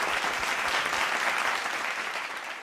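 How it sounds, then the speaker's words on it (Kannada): An audience gives a strong, steady round of applause for singers at a music programme, a dense burst of clapping throughout. "ಇಬ್ಬರಿಗೂ ಒಂದು ಜೋರಾದ ಚಪ್ಪಾಳೆ ಬರಬೇಕು"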